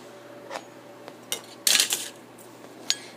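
Metal spoons are picked up and handled, giving a few sharp clinks and scrapes spread over a few seconds, with the loudest cluster near the middle and a last light tap near the end, heard close up in a quiet room.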